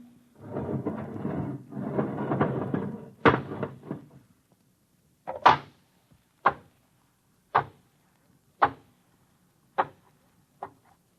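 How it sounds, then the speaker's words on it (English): Airlock inner door opening as a 1956 radio drama sound effect: a long hissing rush of air followed by a series of sharp, evenly spaced mechanical clunks and clicks that fade into near silence. "All right, open the inner door."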